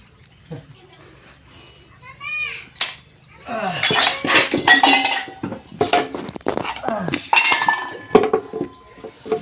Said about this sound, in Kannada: ಬನ್ನಿ ಫೈನಲಾಗಿ ಪಾತ್ರೆ ಬರೋದು.